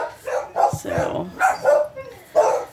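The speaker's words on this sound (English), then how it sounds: "Yeah, see, that's my older dog." An older dog barks repeatedly indoors at home, a run of close, loud yaps in quick succession, with a person speaking briefly in between.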